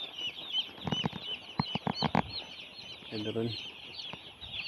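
Chickens bought and fed grain in a rural yard cluck intermittently, with a burst of wing flapping and scattered short calls under a single spoken word, over steady background insect or bird noise.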